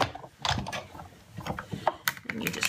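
A Big Shot die-cutting machine has a butterfly Thinlits die cranked through it, making irregular close clicking, ratcheting and creaking mechanical sounds with knocks and rattles as the plates roll.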